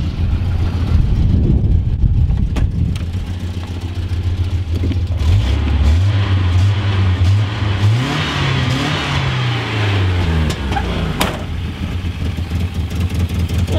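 A Volvo petrol car engine with a repaired exhaust idles and revs up in a few rising and falling pulls, loud and close, with a deep rumbling tone and no voices.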